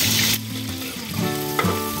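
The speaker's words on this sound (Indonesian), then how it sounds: "Ini ikan dan udangnya aku goreng setengah mateng aja." Fish and shrimp frying in hot oil at an outdoor cooking spot in a Central Sulawesi protected forest, giving a steady close sizzle with a brief scrape of a spatula, no talk.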